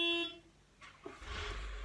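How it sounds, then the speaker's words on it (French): A car horn gives one short, clear toot at the start, then fades into faint, low road rumble and indistinct background noise. "Il m'a fait peur en plus avec son klaxon."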